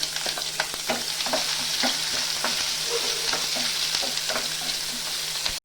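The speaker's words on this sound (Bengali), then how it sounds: "পেঁয়াজটা আমার একটু ভাজা হয়ে গেছে," Chopped onions fry in oil with bay leaf, whole cumin and whole garam masala in a pan, a steady close sizzle broken by sharp scraping stirs throughout, with no talking.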